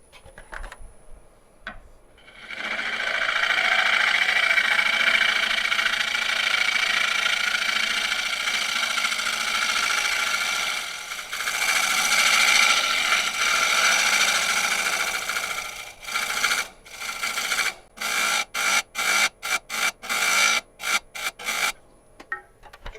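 A tool shaving a live edge wood burl, long continuous rasping passages followed by a run of short, rapid scraping strokes, close and loud.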